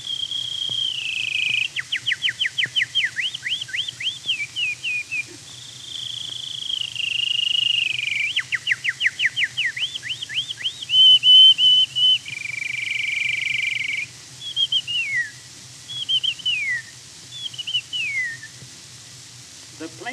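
A man whistles an imitation of the goldfinch's undulating call: repeated rising and falling chirps and sweeping slurred notes in bursts over about twenty seconds. The tone is thin and clear over a faint low hum from an old recording.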